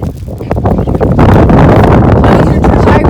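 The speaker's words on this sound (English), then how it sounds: "This wind is horrible." Strong outdoor wind buffeting the microphone, a loud continuous roar that builds after the first second and stays heavy throughout.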